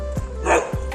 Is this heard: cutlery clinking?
no